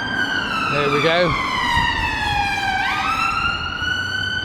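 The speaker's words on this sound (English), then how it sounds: "That was an ambulance." An ambulance siren wails while passing along a London street near the Old Bailey, its pitch sweeping and then dropping as it goes by, loud and continuous over city traffic.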